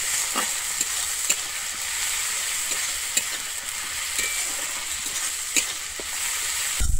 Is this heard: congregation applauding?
no